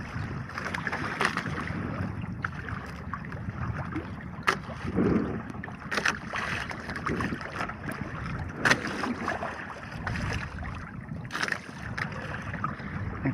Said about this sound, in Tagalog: May paparating na bangka dito na naman.